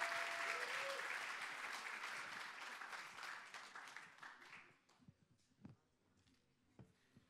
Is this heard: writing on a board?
no